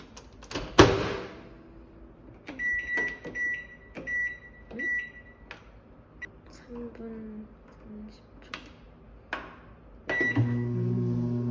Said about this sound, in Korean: 그럼 이따 전자렌지에서 한번 먹어볼게요